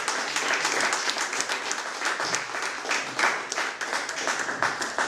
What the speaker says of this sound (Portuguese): Vamos Dar uma linda salva de palmas